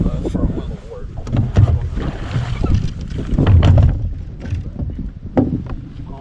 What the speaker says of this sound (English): Got the motor warm up.